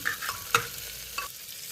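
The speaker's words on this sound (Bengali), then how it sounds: "সবজিগুলো দিয়ে দিয়েছি এবার ভালো করে একটু মিক্স করে নিচ্ছি" Vegetables frying in melted butter, a soft continuous sizzle with a couple of brief clinks and scrapes as they are stirred, short and close.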